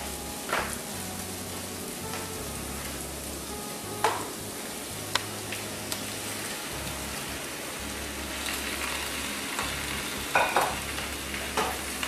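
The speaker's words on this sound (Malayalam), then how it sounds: "ഇതിലേക്ക് ചിക്കൻ ചേർത്ത് കൊടുക്കാം" Chicken pieces fry and get stirred in a pan for green pepper chicken, giving a steady sizzle with intermittent scraping and clattering stir strokes, close up and without speech.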